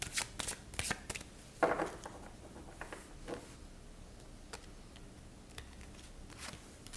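Tarot cards being shuffled and drawn, soft papery flicks and slides in quick irregular bursts, fairly faint and close, with quiet gaps between and no talk.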